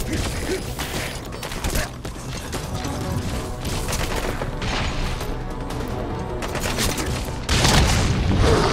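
Rocket explosions in the video game Metal Gear Solid V: The Phantom Pain, with dense, continuous booms and mechanical clatter through a busy firefight, and a heavier, louder blast near the end.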